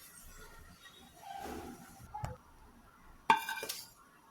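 A metal kadai being picked up and set down in a home kitchen during biryani cooking, a faint scrape followed by a sharper clanking knock and brief rattle, close and otherwise quiet.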